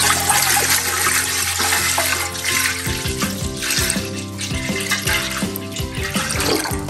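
Water pours into a pot for apricot jam, a loud continuous gushing splash whose pitch shifts as the pot fills, with no talk.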